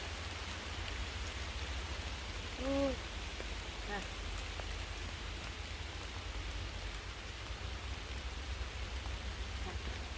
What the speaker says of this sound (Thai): ฝนตกด้วยเนาะ